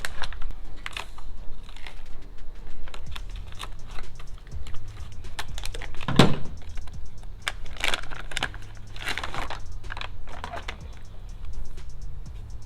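A blade slicing into a plastic DI resin cartridge for an RO/DI water filter, a series of sharp crackling snaps and crunches, close and fairly loud, with a few stronger cracks midway.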